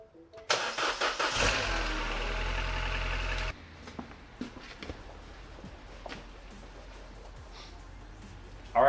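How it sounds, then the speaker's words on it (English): A 2012 Mini Cooper 1.6 engine, freshly rebuilt after a timing chain job, cranks and catches at close range, then settles into a steady idle; the start is loud and abrupt, followed by a quieter, even running note. "the engine runs awesome now"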